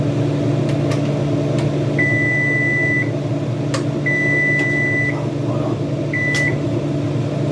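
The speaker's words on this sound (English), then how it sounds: "That's the timer." Electronic timer beeps in three bursts, two longer and one short, over a steady loud mechanical hum.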